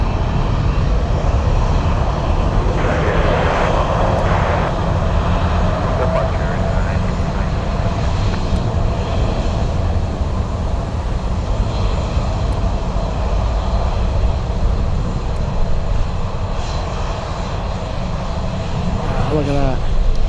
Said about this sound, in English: F-22s are flying.